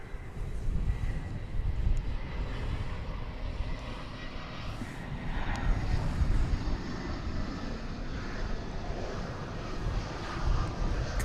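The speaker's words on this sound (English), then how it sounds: "Coming on down from Bakersfield, California is an Airbus A319, flight 1087" An Airbus A319 airliner comes in to land at DFW Airport, a steady broadband jet roar with wind rumble, moderately loud and sustained, without speech.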